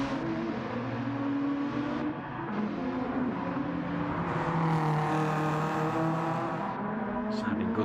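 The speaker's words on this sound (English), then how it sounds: "Sounding good then, the cartoon Cosworth. Pipes hanging out of it." A cartoonish Cosworth race car engine with exposed pipes drones loudly and continuously in a classic DTM sim race at the Nürburgring Nordschleife, its revs rising and falling, with commentary talk running over it.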